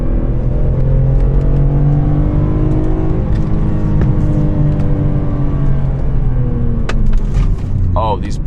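Car in a driving game accelerates hard into a corner, engine revving loud and continuous with rising harmonics and tire noise near the end.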